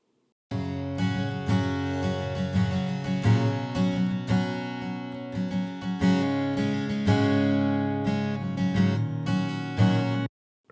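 Warm, full acoustic guitar processed with an acoustic warmer plugin preset, playing chords and picked notes for about ten seconds, ringing out clearly before stopping abruptly.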